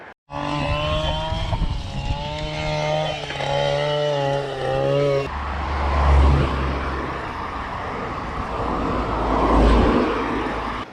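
Cars pass during a climb on a gravel bike ride on a busy road: steady engine roar and tyre noise, with a louder vehicle swelling near the middle and another toward the end, no talk.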